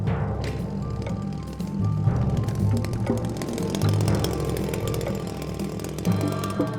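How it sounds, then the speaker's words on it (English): Chainsaw cutting into soft, fossil-bearing rock during a dinosaur excavation in Australasia, a loud, steady engine drone with harmonic whine running continuously throughout, close and unbroken. "Cutting into the rock with a chainsaw."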